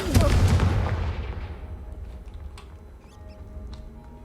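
The Confringo fire spell in the video game Hogwarts Legacy goes off as a sharp, loud blast that rumbles and fades over a few seconds, leaving faint scattered game sounds.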